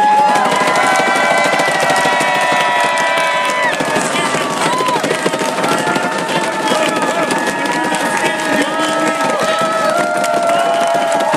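At a concert, the audience roars and cheers for the tech crew. Many voices whoop and shout together in a loud, sustained wave that lasts the whole time.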